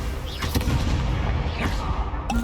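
Incendio fire spell cast in Hogwarts Legacy, a short burst of whooshing flame amid booming combat impacts, loud and close, with a couple of sharp hits in quick succession.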